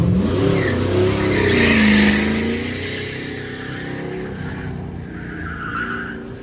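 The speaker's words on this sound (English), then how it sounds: "David Carroll on the line in that little Datsun. It's got a 416 cubic inch LS." A little Datsun with a 416 cubic inch LS V8 on an autocross run, engine roaring and revving with tires skidding and squealing as it passes close, the sound then easing into a steady drone.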